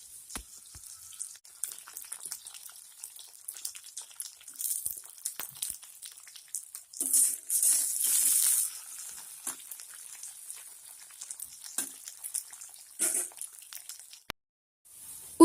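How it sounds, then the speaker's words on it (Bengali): Bitter gourd frying in mustard oil in a karahi, a steady soft hiss and sizzle with a few louder surges of crackle, no talking. "এবার একটা কড়াইতে সর্ষের তেল দিয়ে আমি ফার্স্টে উচ্ছেগুলো ভেজে নেব।"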